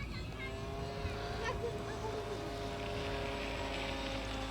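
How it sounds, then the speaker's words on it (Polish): A steady, high-revving small engine of a P-51D model airplane drones continuously at close range, with wind noise and no talking. "to jest bardzo mocny silnik"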